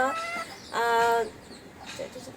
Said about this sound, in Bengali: এই যে দেখো অনেক সুন্দর মুরগিটা